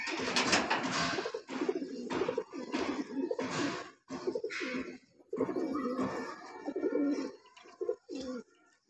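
A male and female pigeon coo close by as they pair, in repeated throaty bursts with short gaps between them, with no voices.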